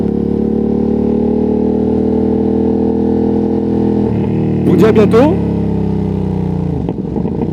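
A Ducati Streetfighter V2S motorcycle engine drones steadily on a ride, close and loud, with a brief surge midway and a drop near the end, while someone talks over it.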